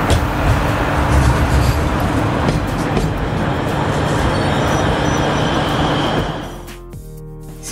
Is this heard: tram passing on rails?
yes